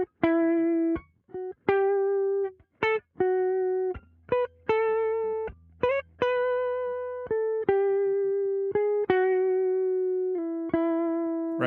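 Clean electric guitar picking single notes one at a time in a steady, simple melodic line, each note ringing briefly before the next, with no talking.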